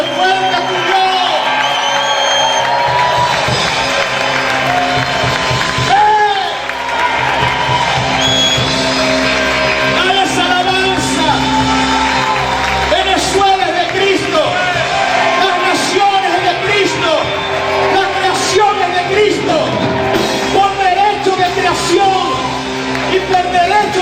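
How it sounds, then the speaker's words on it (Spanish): A church congregation shouts, whoops and cheers loudly and continuously, with overlapping voices and clapping filling a large room throughout. "Grita y aplaude fuerte a tu Dios."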